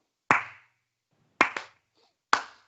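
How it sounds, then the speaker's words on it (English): Slow, deliberate handclaps: one sharp clap, a pause, then a quick pair, another pause and a single clap again, close and crisp in an otherwise quiet room. "when they start to clap slowly"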